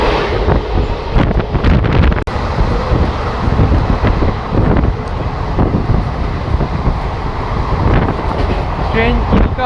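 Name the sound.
train crossing at night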